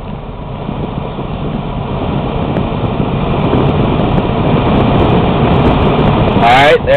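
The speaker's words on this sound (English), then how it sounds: "you'll hear the blower come on, all the way up to full power slowly" A car's heater blower motor ramping slowly up to full power, a broad steady whoosh that grows gradually louder over several seconds, close and continuous, with a brief squeal near the end.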